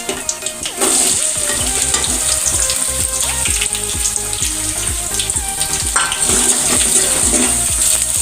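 Chopped onion hits hot oil with cumin and mustard seeds in a pan, bursting into a loud, steady sizzle and crackle that continues throughout with occasional stirring clinks.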